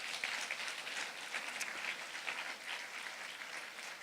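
A congregation gives the team leaders and deputy team leaders a round of applause at a church gathering, with dense, steady clapping that holds for several seconds at moderate distance.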